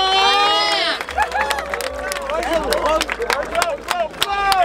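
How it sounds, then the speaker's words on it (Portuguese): A crowd at a Brazilian rap battle, the Batalha da Aldeia, claps and cheers close by, with a dense wash of hands and shouts running under excited talk. "Palmas nessa batalha."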